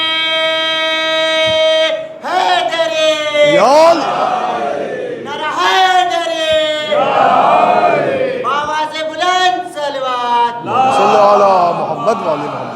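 Large mosque or majlis crowd at a Shia religious gathering chanting the slogan Naara-e-Haidari in loud, repeated unison call-and-response bursts, strongly voiced and reverberant, with a leader's sustained call preceding the massed shouts.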